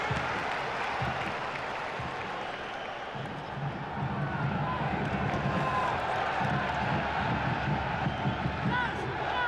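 Football crowd of just over 17,000 in Arnhem's stadium at a Vitesse versus ADO Den Haag Dutch league match, a steady roar of murmur and cheering filling the background throughout while a commentator talks over it.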